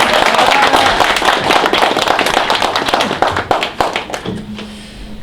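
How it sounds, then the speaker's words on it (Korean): Loud, dense applause from a lecture audience at a political school event, many hands clapping steadily for about four seconds before thinning out. "다시 한번 큰 박수 부탁드리겠습니다."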